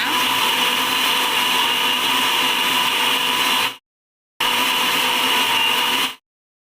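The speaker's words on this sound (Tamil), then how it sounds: "இப்போ மிக்ஸ் ஜாரில் நம்ம அடித்து எடுத்துக்க போகிறோம்" A mixer grinder blending orange juice whirs loudly and steadily, stops briefly, then runs again before cutting off abruptly.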